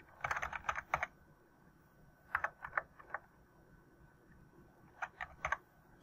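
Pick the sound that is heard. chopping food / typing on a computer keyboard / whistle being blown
typing on a computer keyboard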